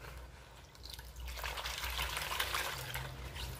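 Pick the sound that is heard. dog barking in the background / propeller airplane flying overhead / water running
water running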